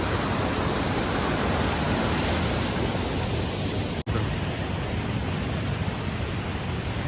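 A village stream that flows on to join a river rushes steadily and loudly nearby, a dense, even wash of water noise broken only by a split-second dropout midway.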